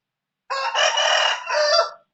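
A rooster crows nearby, one loud, drawn-out cock-a-doodle-doo of about a second and a half rising out of silence.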